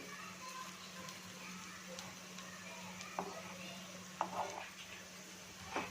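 Cabbage and carrot vadis shallow-fry in a pan with a soft, continuous sizzle, broken by occasional clicks and light scrapes as the pieces are turned, all fairly quiet and close.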